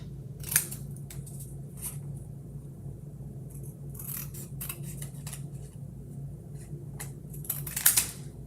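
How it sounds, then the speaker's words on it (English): Scissors take quick little snips through paper for a craft kit, a series of sharp crisp clicks spaced irregularly, with a low steady hum behind them. "Just take little snips."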